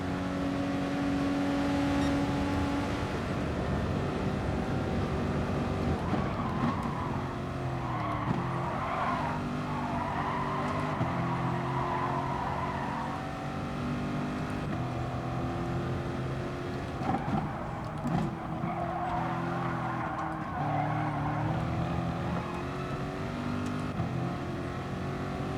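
Corvette race car in a racing video game running on cold tyres during the first lap, its engine droning loudly and steadily with shifting pitch and occasional tyre squeal, continuous throughout.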